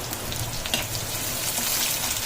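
Onions and curry leaves fry in coconut oil in a clay pot, a steady close sizzle with one sharp crackle near the start and no voices.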